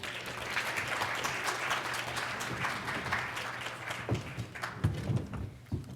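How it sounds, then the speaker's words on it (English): A conference audience applauds their panel moderator, a broad steady wash of clapping from many hands that thins out toward the end, leaving a few scattered louder claps. "Give her a round of applause, please."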